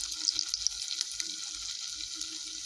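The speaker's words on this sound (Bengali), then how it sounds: "গোল্লা করে করে তেলের মধ্যে ছাড়ছি। তো এইভাবেই এগুলোকে ভেজে নেব" Ridge gourd kofta balls fry in hot oil with a steady, close sizzle and bubbling that runs unbroken, with a few sharper crackles and no voices.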